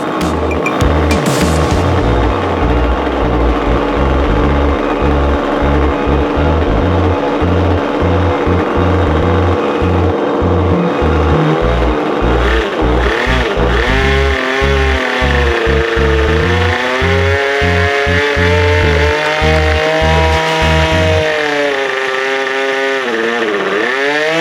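A nitro model engine on a large hobby ekranoplan runs on a test after its exhaust leak was fixed, a loud, close, buzzing whine that stutters and pulses, then rises and falls in pitch with throttle changes.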